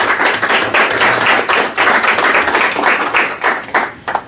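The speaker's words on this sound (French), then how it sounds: "Je vous demande d'applaudir chaleureusement." Audience at a conference on immigration and cultural diversity applauding warmly, a dense and loud run of clapping that holds steady for several seconds with no voices over it.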